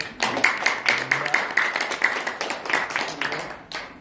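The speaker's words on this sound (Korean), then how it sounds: "우리 신성월 목사님 박수 하나 해주세요" An audience at a talk show event claps to welcome a pastor, a steady rhythmic stream of hand claps at moderate loudness that carries on evenly to the end.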